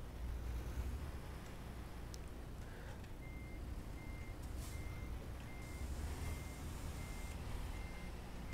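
A Peterbilt truck in American Truck Simulator beeps steadily while reversing, the evenly spaced tones running over a low engine rumble, quiet and without speech.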